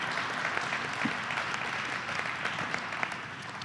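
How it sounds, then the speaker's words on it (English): Steady applause from a large crowd, continuous dense clapping throughout at moderate distance, with no speech over it. "Again, another round of applause for Governor Christie."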